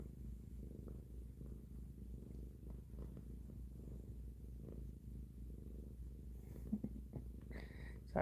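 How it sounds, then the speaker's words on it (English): A cat purrs close and low in a continuous rumbling drone, steady and quiet throughout with no talking over it. "I'm just listening to her purr. I love that sound."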